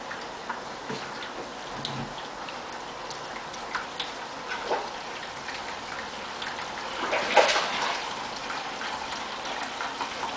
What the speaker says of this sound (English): I siphon out the remaining water.